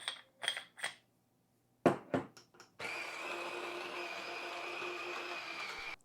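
An electric coffee bean grinder starts with a few sharp clicks and clunks, then settles into a loud, continuous whirring grind of beans to a fine texture for the last few seconds.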